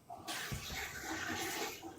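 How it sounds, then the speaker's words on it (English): A toilet flushes during a live online call, a steady rush of water starting abruptly and running loud for about two seconds with no talk over it. "Sounds like there was like flushing or like water."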